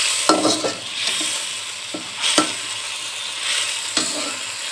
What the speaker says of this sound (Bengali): এখন আমি মাছগুলো দিয়ে দিচ্ছি দিয়ে খুব সুন্দরভাবে নিয়ে